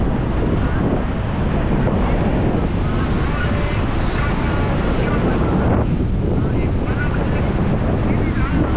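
Strong wind buffets the microphone in a constant roar, with churning sea waves rushing underneath throughout.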